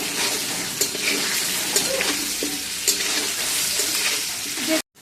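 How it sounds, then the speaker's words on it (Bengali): Potatoes seasoned with salt and turmeric crackle steadily as they fry in a pan, with occasional stirring knocks against the metal, then a sudden cut to silence at the very end. "এবার এটা ভালোভাবে ভেজে নেব।"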